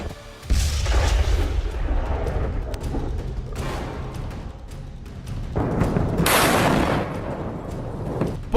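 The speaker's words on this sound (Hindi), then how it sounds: "रूस के धमाके कंटिन्यू हैं" Explosions and artillery fire in the Russia-Ukraine war, a series of loud, rumbling booms with broad crackling blasts that swell and fade, one strong burst near the end, with no voices.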